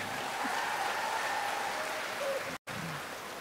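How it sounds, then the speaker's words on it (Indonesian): A crowd claps steadily in sustained applause for cum laude graduates at a University of North Sumatra graduation ceremony, broad and even, with a brief dropout before the clapping continues. "Yang dapat cum laude tepuk tangannya kencang sedikit."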